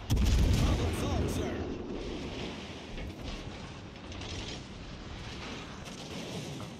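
Warship gun salvos in World of Warships Legends, a heavy booming blast at the start followed by rumbling impacts and mechanical clatter, with scattered later thuds at moderate distance.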